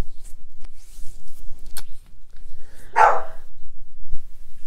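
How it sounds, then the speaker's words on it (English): A dog barks a few times in the background inside a home, scattered sharp yaps spread across a few seconds, one louder bark standing out amid faint rustling. "I'm sorry if you hear the dogs in the background."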